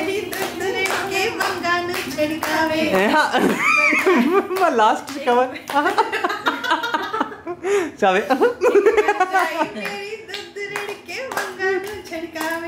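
A group of people claps rhythmically along to Punjabi boliyan sung during an anniversary night, with sharp, steady hand claps mixed with singing, laughter and chatter.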